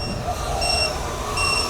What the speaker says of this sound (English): Okay, now we're hearing a constant beep.